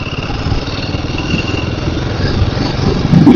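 A motorcycle rolling downhill in gear on a mountain road returning from Yercaud, with a steady, loud engine drone and road rumble throughout, no talk.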